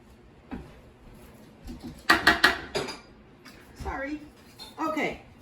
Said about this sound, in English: now I'm going to use another little scoop